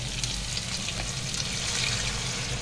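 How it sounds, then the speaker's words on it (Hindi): Water poured into a pan of sizzling masala while cooking chicken, giving a loud, steady hiss and bubbling frying sizzle that fills the whole stretch with no voices. "तो दोस्तों अब पानी डाल ही देते हैं, ये जो मसाला था उसी में मैंने पानी डाला है"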